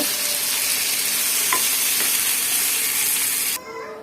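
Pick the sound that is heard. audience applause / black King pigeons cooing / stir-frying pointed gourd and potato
stir-frying pointed gourd and potato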